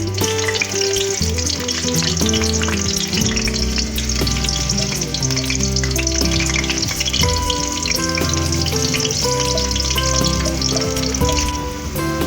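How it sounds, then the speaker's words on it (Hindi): Garlic sizzling and frying in hot oil in a pan for broccoli, a steady loud crackling hiss that runs throughout with no talk over it. "ऑयल गर्म हो चुका हुआ है, अब इसमें मैं लहसुन डाल देती"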